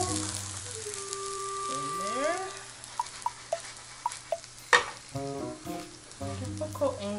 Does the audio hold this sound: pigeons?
no